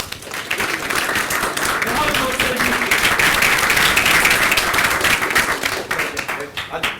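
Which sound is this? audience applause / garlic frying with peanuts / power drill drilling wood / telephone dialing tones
audience applause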